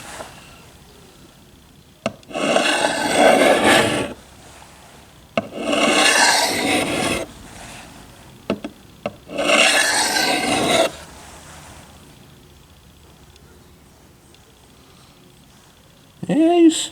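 An OKC AF survival knife is drawn across a sharpening surface in three long, close rasping passes a few seconds each, separated by quiet pauses and faint clicks, with a brief final scrape at the end.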